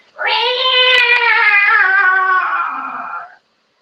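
A person imitates a cat's meow during a kids yoga class, one long, clear, drawn-out voiced meow that rises and slowly falls, close and loud, with no other talking around it.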